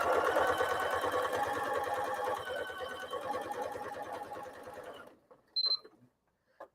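A sewing machine stitches half square triangle quilt pieces, its needle running in a fast, steady, close mechanical whir for about five seconds before stopping, followed by a few small clicks and a brief squeak.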